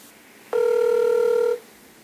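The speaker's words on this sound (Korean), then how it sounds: "그는 끝내 전화를 받지 않았습니다." A telephone rings once in a steady electronic tone, about a second long, with no one answering it; the line otherwise stays quiet around it.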